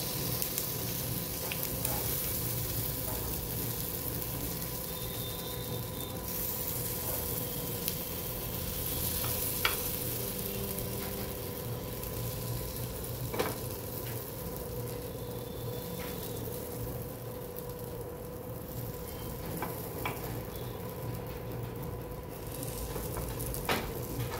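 Sesame seeds and green moong appe batter sizzle steadily in an appe pan, a continuous close hiss with occasional soft clicks and stirring sounds.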